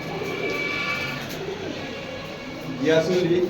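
Pigeons coo softly in a loft of fancy breeds, low rolling calls rising near the end amid steady background noise while a person talks over them.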